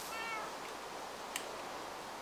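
Cats meowing in the video game Minecraft, faint high mews over a steady game background hiss, with one brief sharper cry near the middle.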